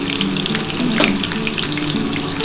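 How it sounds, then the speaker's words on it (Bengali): Chopped onion drops into hot oil and fries with a loud, continuous sizzle, with a sharp crackling flare near the middle and a steady hiss throughout. "ওই তেলের মধ্যে আমি কিন্তু এবার পেঁয়াজটা দিয়ে দিচ্ছি"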